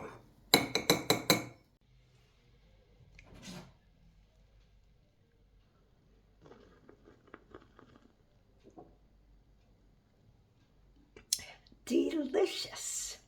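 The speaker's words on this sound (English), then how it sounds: "because I put the sugar in advance, I give it a little stir" A spoon stirs sugar into a drink in a glass, giving a short burst of bright clinks near the start and again near the end, with quiet movement and a few soft sounds between.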